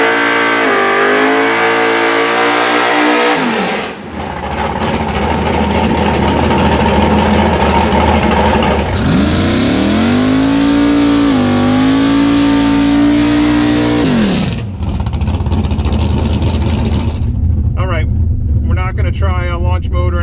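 Race car engine revving hard ahead of a drag race launch, loud and close, with sustained high-rpm roars and pitch sweeps, a brief drop near four seconds, then engine revving continuing with voices talking over it.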